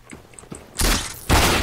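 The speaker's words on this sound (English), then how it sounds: "Throwing a flashbang." Flashbang thrown in Counter-Strike: Global Offensive, a few small clicks followed by two loud, close bursts of broadband blast noise.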